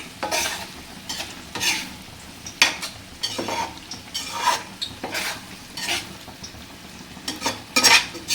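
A paneer dish fries in a pan while a spoon stirs it, giving a steady low sizzle broken by repeated scraping strokes and light metal clinks, close and without any voice.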